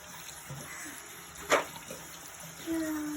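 Tap water running into a sink during a young child's tooth brushing, a low steady trickle in the background with a sharp splash or clink midway and a faint tone near the end.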